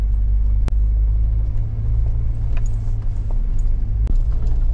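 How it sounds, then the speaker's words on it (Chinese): A car struggles up a steep, snowy winter mountain road with its tires slipping, a steady heavy engine rumble and drivetrain drone with a couple of sharp knocks, close and loud throughout. "感觉我挂了第一次，我轮胎都在打滑，不停在打滑"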